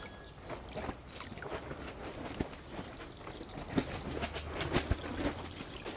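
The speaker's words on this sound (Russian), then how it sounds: "И поливаем каждый кустик." Liquid fertilizer poured from a one-litre ladle onto young cucumber plants, a soft continuous splash and trickle with a few brief knocks, quiet and close.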